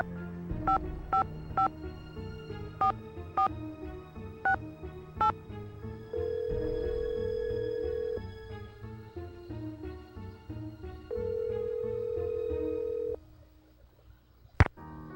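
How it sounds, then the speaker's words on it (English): Telephone in a Nancy Drew video game: a quick series of clear dialing beeps, then two long ringback tones with a pause between, ending in a sharp click as the line picks up. No one talks. "I'm calling Bess"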